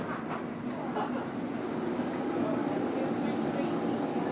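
Aboard a fast London Underground Metropolitan line train between Euston Square and Great Portland Street, a low, steady rumble of the carriage in motion runs continuously, with a voice sounding over it.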